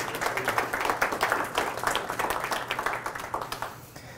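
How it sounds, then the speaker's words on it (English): A roomful of people clapping together, steady applause for a few seconds before it tapers off near the end. "I think we should give them a round of applause."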